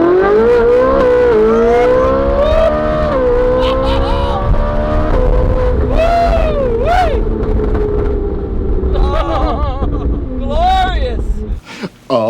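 A Ferrari engine revs high, a loud, close, sustained whine that rises and dips in pitch, with voices talking over it.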